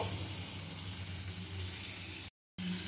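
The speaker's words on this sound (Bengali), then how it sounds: "এই তেলের মধ্যেই আমি দিয়ে দিচ্ছি রসুন কুচি" Chopped garlic sizzles steadily in hot oil, a close, dense crackling hiss that cuts out briefly near the end before resuming.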